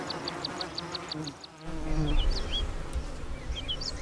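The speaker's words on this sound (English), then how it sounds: "You can see they're Cape black bees, so they're very black." Cape honeybees buzz in a hive in a busy, continuous hum at close range, with a brief dip partway through and a few faint chirps in the background.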